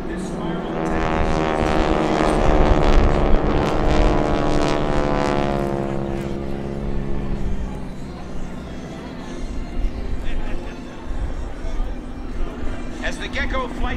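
Geico Skytypers propeller planes fly in formation at the 2012 Jones Beach airshow, their droning engines swelling loud as they pass overhead and then fading out, while an announcer talks over the sound.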